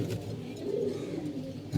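Soft, low pigeon coos murmur continuously at close range, with a faint rustle at the end.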